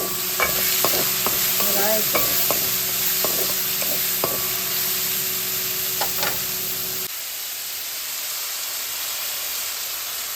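Onion, curry leaves, green chillies and dried red chillies frying in hot oil with spices: a loud, continuous sizzle with scattered clicks and scrapes of stirring, then suddenly quieter for the last few seconds.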